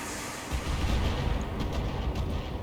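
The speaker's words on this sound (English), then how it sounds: "Let's see if we can put a Gauss rifle through the cockpit." A Gauss rifle fires at a Banshee mech in Battletech, a deep booming blast followed by rumbling impacts and low crackling explosions, heard loud with no voices.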